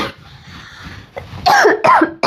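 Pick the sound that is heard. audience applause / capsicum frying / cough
cough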